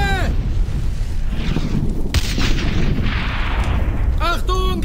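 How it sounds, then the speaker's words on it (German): A grenade explodes in Brothers in Arms: Hell's Highway, a heavy boom rumbling through the middle amid battle noise and artillery-like thuds, with voices shouting warnings around it. "Aufpassen! Granate!"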